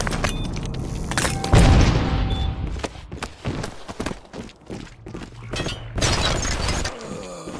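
A grenade explodes in Ballistic Overkill with a heavy boom early on, then debris-like clatter, scattered shots and hurried footsteps follow over several seconds at moderate loudness.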